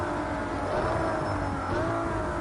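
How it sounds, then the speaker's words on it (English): Race car engine and gearbox in a racing video game, with a steady, loud, continuous engine drone holding a sustained pitch and slight rises throughout. "The engine sounds lovely, gearbox sounds also quite nice as well."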